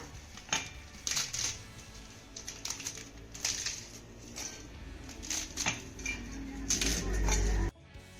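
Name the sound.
breaking raw urad papads into mixer jar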